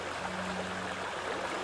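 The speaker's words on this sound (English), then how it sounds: "The sound of rushing water?" A stream's rushing water makes a steady, full broadband hiss and burble, close and continuous with a faint low hum beneath and no voices.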